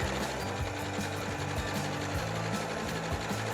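A sewing machine stitches a quilt strip set at a fast, steady pace, its needle clattering in a continuous close-up whir with rhythmic pulses throughout and no talking.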